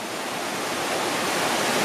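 A small waterfall pours into a swimming hole on a hike, giving a steady, loud, close rush of falling water with no other sounds.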